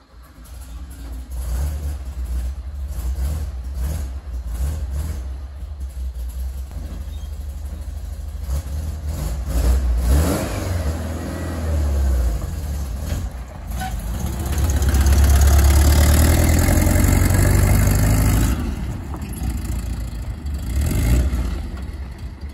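A Bradley GT 2 kit car drives down a road with a steady, close engine drone that swells as it revs up midway and then settles back to cruising.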